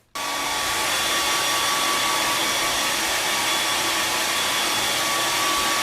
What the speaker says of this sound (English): So I'm going to just go straight to my blow dryer and start blow drying